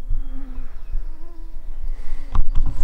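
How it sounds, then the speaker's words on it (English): Swarming insects buzz close and continuously outdoors, a thin drone that stays steady before louder bursts of rustling handling noise near the end. "Mosquitoes are killing me out here. They're just swarming everywhere."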